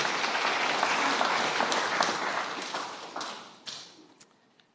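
Audience applause at the launch of a Pacific and Global Health Research flagship centre, a dense crowd of clapping hands that holds steady for a few seconds, then thins and fades out, leaving a few last scattered claps.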